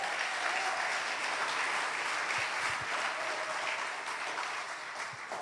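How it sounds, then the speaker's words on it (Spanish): A church congregation claps together for the Lord, a fairly faint but steady wash of applause that slowly tapers off toward the end. "Alguien dale un aplauso al Señor"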